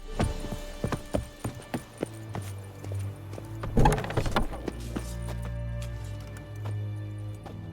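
Horse hooves clip-clop in the video game The Witcher 3, a steady run of hoof knocks that rise into a louder flurry midway before settling back over a low ambient hum.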